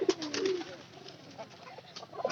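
Pigeons coo softly nearby, a few low, throaty calls repeating over a quiet background.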